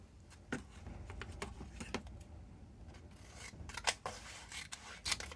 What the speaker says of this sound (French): Donc je vais en couper un morceau.